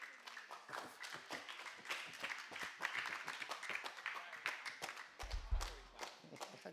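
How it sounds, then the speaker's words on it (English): A small group claps after a game, a fairly quiet stretch of scattered, uneven hand claps continuing throughout, with a few low thumps near the end. "I like how they clap."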